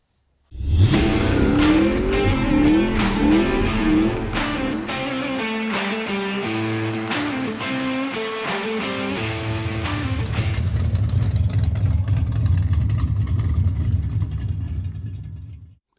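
A Pro Street Plymouth Valiant engine runs loud and close, rising and falling through rough revs before settling into a heavy, lumpy idle rumble that fades out at the end.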